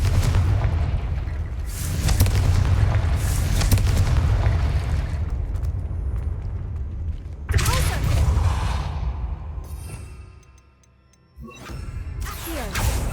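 In Hogwarts Legacy, the Confringo blasting spell sets off booming explosions that rumble at length, with a sharp new blast partway through, a brief dip toward quiet and then another roaring burst.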